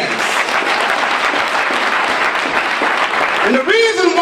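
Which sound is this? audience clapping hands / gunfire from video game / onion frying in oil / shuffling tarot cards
audience clapping hands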